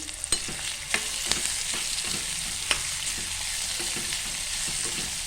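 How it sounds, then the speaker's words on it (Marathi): Chopped onions, two medium ones, sizzle steadily in a hot pan for a Marathi drumstick-flower and dried-fish vegetable dish, with occasional spoon clinks and stirring scrapes over the continuous frying hiss. "त्यानंतर आपण कांदा टाकून घेऊया तो आपण चिरून घेतलेला आहे"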